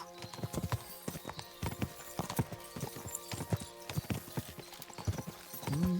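Hooves clip-clop at a steady walking rhythm on a horse in a video game, close and distinct, with a snort or neigh near the end.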